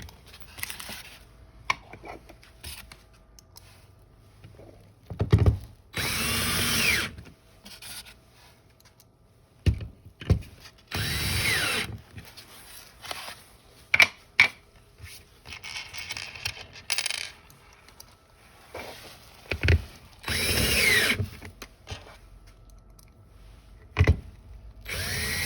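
A power drill drives screws into the legs of an LED nightstand during assembly. It gives repeated short, loud whirring bursts separated by quiet pauses, with small handling clicks and rubbing between the runs.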